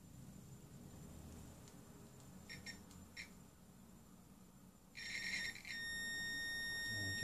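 A multimeter checks continuity on the wiring harness of a Triumph Bonneville America motorcycle: a few short faint electronic chirps, then a steady high-pitched tone sounds partway through and continues to the end, close and clear.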